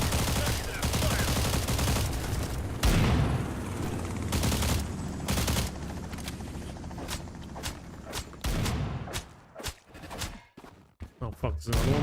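A festive fireworks launcher fires in the shooter STALCRAFT: X, a dense barrage of rapid loud bangs and thumps that runs through the whole span, with talk mixed in and the blasts thinning out toward the end.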